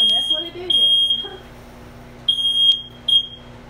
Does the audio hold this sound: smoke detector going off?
yes